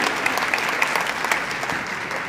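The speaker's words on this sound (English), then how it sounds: "Give John a round of applause." An audience applauds steadily, a dense spread of clapping that holds at an even level throughout.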